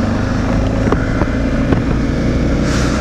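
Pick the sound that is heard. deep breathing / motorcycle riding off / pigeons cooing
motorcycle riding off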